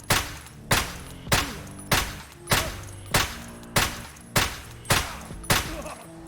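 Ten rapid rifle shots from a 7.62x51 round strike a Gen 4 or Slick plate carrier in the Escape From Tarkov video game, each a sharp loud crack with a short decay, evenly spaced about two-thirds of a second apart.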